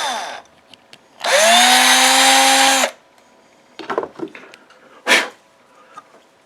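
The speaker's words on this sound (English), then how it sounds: "So run the drill in the right direction, it'll work better." An electric drill boring out a 3D-printed sacrificial bridge on a small robot part gives one loud, steady whining burst of about a second and a half, with quieter clicks and handling noises before and after.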